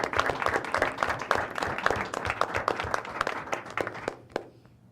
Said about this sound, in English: A round of applause for you too.